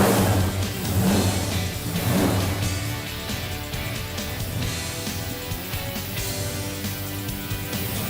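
A car engine runs steadily after an oil change in a home garage, with a couple of revving surges early on before settling into an even, continuous drone close by.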